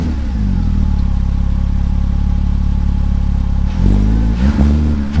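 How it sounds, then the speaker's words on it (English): A Porsche Cayman S 987 with a Fabspeed aftermarket exhaust idles with a loud, steady rumble near the tailpipe, then blips its throttle twice in quick, rising revs. "Now, this car has the Fabspeed exhaust,"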